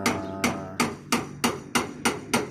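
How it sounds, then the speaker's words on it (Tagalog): Seven sharp hammer blows pounding nails into a metal sheet roof land at a steady, even pace, each a loud, ringing strike close by with brief pauses between. "Tsaka maingay po yung pagpupuk po ng martilyo."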